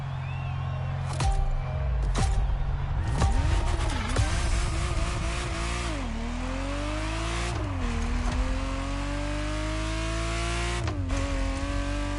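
Ferrari Testarossa engine in the racing game The Crew Motorfest, loud and continuous, revving through several gear shifts with rising pitch sweeps, brief tire squeal early on and a steady roar to the end.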